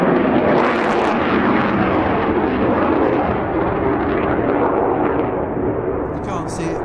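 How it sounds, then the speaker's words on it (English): Eurofighter jet taking off nearby, a loud sustained roar filling the whole stretch with no gaps, heard outdoors from a back garden. "That was a Eurofighter taking off."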